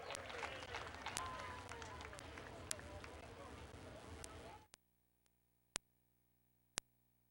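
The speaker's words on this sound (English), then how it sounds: "Everyone give a round of applause for Norman Taylor" Crowd applause at a speedway, a dense burst of clapping under talk that stops abruptly, followed by a few isolated sharp knocks in near silence.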